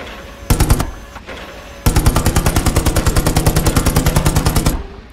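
A tank turret machine gun in Hell Let Loose fires a short, loud burst, then after a brief pause a long sustained stream of rapid, evenly spaced shots that runs for about three seconds before cutting off.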